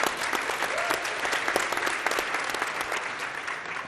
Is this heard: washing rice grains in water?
no